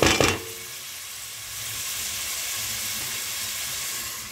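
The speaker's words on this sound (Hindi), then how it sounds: "चले मैं प्याज भूनती हूँ" Onions fry in a pan: a brief clatter as they go in, then a soft, even hiss that swells slightly and holds steady.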